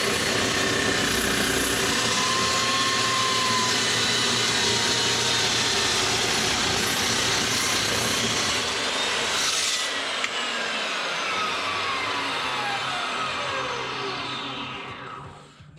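A Fein cold cut chop saw slices through a workpiece at a 45-degree angle, giving a loud, steady grinding roar for about ten seconds before the blade winds down and fades to silence. No one speaks.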